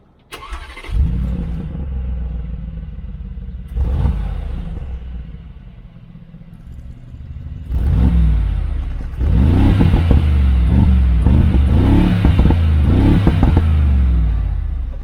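A Mercedes-Benz G63 AMG engine starts and revs loudly several times through a deep, rumbling sport exhaust, each throttle blip rising and falling close by.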